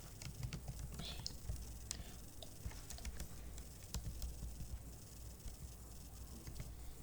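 Steady clicking of computer keyboard keys while typing HTML, a fairly continuous run of close, light taps with a low background hum.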